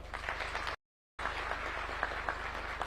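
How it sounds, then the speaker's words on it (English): Audience at a national defence college graduation ceremony applauding steadily, a dense, even wash of many hands clapping that breaks off briefly and then resumes at the same level. "One more round of applause"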